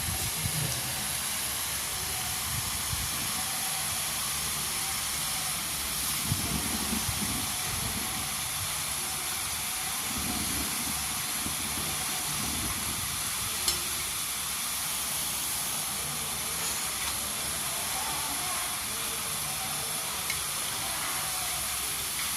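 Murukulu, a Telangana fried snack, bubbling in hot oil with a steady, dense hiss that runs unbroken throughout, loud and close with no talking.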